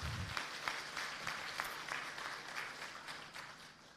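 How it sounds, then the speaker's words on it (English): Rhythmic applause from an audience at a formal ceremony honoring delegates from Southeast Asian countries and Japan, sounding faint and distant, with steady claps that slowly fade toward the end. "Why don't we give everybody a big round of applause, please?"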